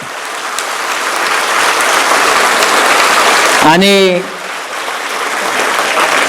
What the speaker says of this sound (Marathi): त्यांच्यासाठी एकदा पुन्हा हात वर करून टाळ्या वाजवा. जोरात वाजवायच्या, जोरात.